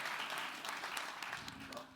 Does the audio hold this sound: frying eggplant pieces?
no